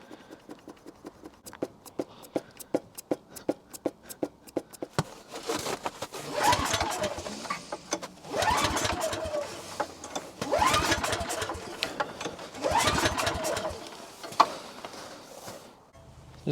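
Snowblower engine cranked for a cold start: a long run of rapid pull-cord or starter clatter, then several louder sputtering attempts that catch briefly and die, close by with no talk.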